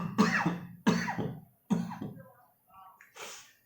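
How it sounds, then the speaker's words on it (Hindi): A lecturer coughs three times in quick, harsh bursts close to the microphone, followed by a short throat-clearing and a breathy exhale in an otherwise quiet room. "इसलिए एकदम से खांसी आ गई"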